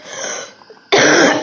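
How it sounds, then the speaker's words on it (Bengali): A person coughs hard and harshly, a rough throaty burst that softens briefly before a second, louder and sustained fit of coughing close by. "প্রচন্ড কাশি"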